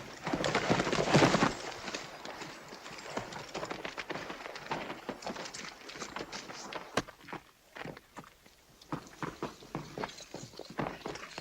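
A horse's hooves clip-clop on the ground in a western film setting, an uneven run of soft, fairly close hoof strikes that begins louder and then settles into scattered steps, with no talk over them.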